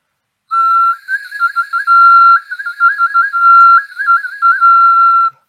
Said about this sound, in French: c'est un petit sifflet pour enfants dans lequel il y a un trou au bout en plus